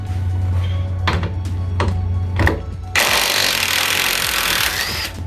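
Sockets working on Fiat 500 / Ford Ka 1.2 petrol clutch bolts: a few sharp metallic clicks and knocks, then a sudden loud burst of tool noise as a bolt gives way.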